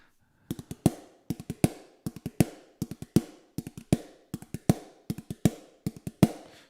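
Sharp single-stick rebound strokes on a snare drum, played alone in short clustered groups of crisp, close cracks with brief pauses between phrases, like a pipe band reel rudiment.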